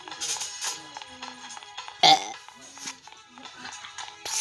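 A single short, loud burp bursts out midway through playful indoor chatter, standing above the surrounding voices before the talking resumes.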